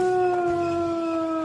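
A single long, steady wolf howl at close range, holding a clear tone that slides slightly downward with no pause.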